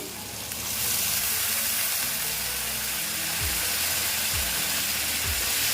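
Tangra fish masala sautéing in a pan with spices and a splash of water, a steady close sizzle and hiss, with a few low scraping stirs toward the end.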